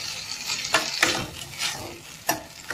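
Idli Manchurian ingredients are stirred in a hot pan, with repeated loud scrapes and clatters of the spoon over a continuous close sizzle of frying.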